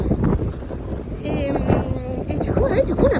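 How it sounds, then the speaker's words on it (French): Wind buffets a microphone outdoors in San Francisco, making low rumbling gusts that rise and fall while a person keeps talking close to the mic. "J'espère qu'on m'entend bien avec le vent."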